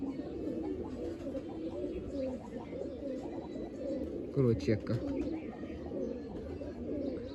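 Kalsira pigeons coo in a loft with a brief burst of soft, throaty calls midway, heard under someone talking close by.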